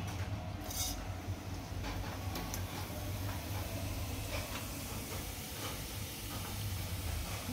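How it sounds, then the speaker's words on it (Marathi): A spoonful of cumin seeds sizzles in hot oil in a pan for mushroom masala, giving a steady, quiet crackling hiss with scattered sharp pops throughout and no talking. "तेलामध्ये मी टाकणार आहे आता 1 चमचा जिरे."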